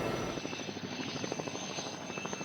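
Helicopter flying toward the Chernobyl nuclear power plant, heard from inside the cabin: a steady, loud engine drone with rapid rhythmic rotor thumping throughout.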